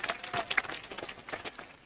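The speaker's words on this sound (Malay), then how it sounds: "Saya minta saudara-saudari tepuk tangan kuat-kuat kepada Datin Paduka Tan Yew Kiew sebagai penghormatan" Audience applause for Datin Paduka Tan Yew Kiew at a Malaysian political gathering, a steady patter of many hands clapping at moderate distance, fairly soft and continuous with no voices over it.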